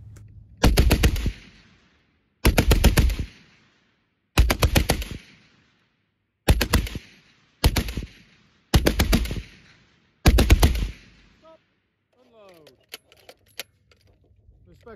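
A Vickers machine gun fires surplus Mark 7 ammunition in seven loud bursts of rapid automatic fire, each about a second long and separated by short pauses, followed by quieter clicks and mechanical handling sounds.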